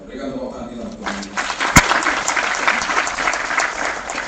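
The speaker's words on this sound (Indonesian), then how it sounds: "Berikan tepuk tangan kita untuk Tuhan." A church congregation applauds during a service. After a quiet opening with a voice, the clapping swells and holds as a dense, close, steady roar, marked by one sharp click.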